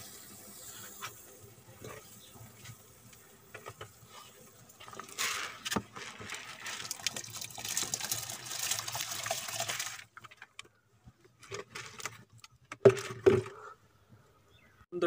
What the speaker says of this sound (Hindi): अब इसमें हम चावल डालेंगे।